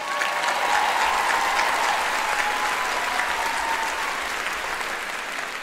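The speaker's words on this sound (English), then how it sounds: "let's give Jim, Gary, and the big band a round of applause" Applause at a Canadian high-school theatre awards gala for two band mentors and the big band: sustained, dense clapping from a large audience, loud at first and easing slightly toward the end, with no speech over it.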